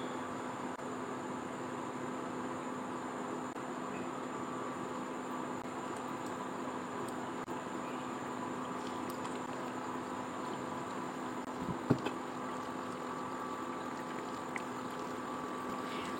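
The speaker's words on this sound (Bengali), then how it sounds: "মোটামুটি আঁচ দিয়েই ভাজতে হবে" Chicken patties fry in oil over medium heat, giving a steady, even sizzle that holds at a constant level throughout with no one speaking.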